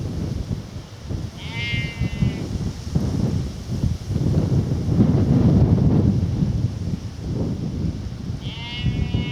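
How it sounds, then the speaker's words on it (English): A sheep bleats twice, a wavering call early and another near the end, sheltering by an old war bunker on open countryside, with steady wind rumble buffeting the microphone throughout. "The old sheep making use of the war bunker there."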